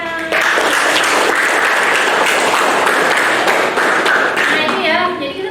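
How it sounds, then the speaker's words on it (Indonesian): Students in a classroom break into loud, dense applause that lasts about five seconds and then fades, with voices overlapping the clapping. "Oke, tepuk tangan."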